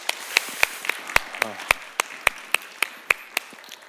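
Slow, sparse claps ring out at a church youth service, roughly four per second with crisp, separate hits and a brief voice near the middle.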